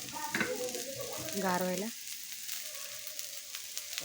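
Sliced bitter gourd roasts with oil and salt in a pan, giving a soft sizzle. Someone talks over it at first, and then the quiet frying continues on its own.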